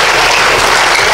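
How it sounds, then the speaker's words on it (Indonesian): An audience at a university new-student orientation event claps for a speaker, a loud, dense and continuous burst of applause with no voices above it. "Kasih tepuk tangan yang meriah untuk Pak Ardian"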